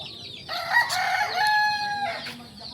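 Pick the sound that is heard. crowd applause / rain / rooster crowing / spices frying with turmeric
rooster crowing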